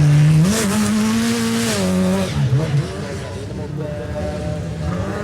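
A rallycross supercar engine screams close by at the 2022 Race of Champions, its pitch climbing and dropping through gear changes, with tire noise and a commentator talking over it.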